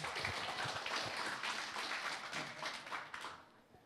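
A church congregation claps loudly for the Lord during a Filipino sermon, a dense, sustained wash of clapping from many hands in a large room that fades out toward the end, with no voices over it.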